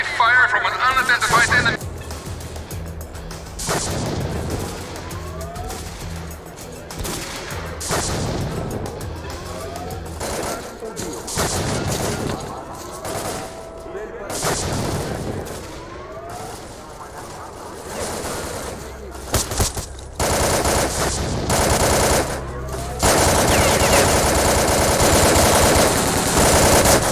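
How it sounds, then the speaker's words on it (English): Heavy gunfire in S.T.A.L.K.E.R. 2 comes as repeated loud automatic bursts and single shots, near and far, with whizzing and impacts, under intermittent voices, ending in a harsh, sustained noisy roar. "Heavy fire from an unidentified enemy."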